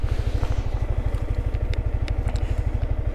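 A motorcycle idles close by with a steady, fast low thump throughout, while a few small clicks and rattles suggest riders climbing on in a Nepali village near Pokhara.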